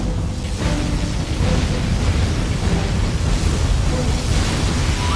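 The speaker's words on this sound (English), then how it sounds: "Particle cannon activated." The particle cannon in the strategy game Generals Zero Hour fires with a deep, booming, explosive rumble that builds after a brief quieter start and then holds as a loud, continuous roar.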